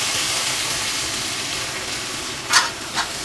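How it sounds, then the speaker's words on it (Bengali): Small shrimp fry in hot oil in a heated wok, a dense steady sizzle and hiss that fills the scene, broken near the end by a couple of brief clinks or stirs, with no voices. "এবারে আমি চিংড়ি মাছগুলো ভেজে নেব।"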